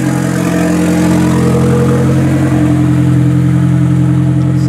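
A Nissan S13 with an SR20 engine and an open downpipe drones loudly at steady high revs, a harsh continuous exhaust roar held close without pauses.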